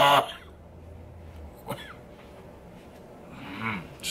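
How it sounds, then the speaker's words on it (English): A man clears his throat once near the start, followed a little later by a brief rough snort and another short throat-clearing rasp, close and fairly quiet in a still room. "Just clearing my throat up, that's all I'm doing."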